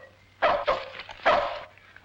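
A dog gives two or three close, sharp barks in quick bursts, separated by a brief gap, against a quiet background.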